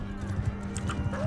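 Hooves clip-clop in quick uneven beats beneath a faint high whinny, a horse in a medieval combat video game, with a voice talking lightly over it.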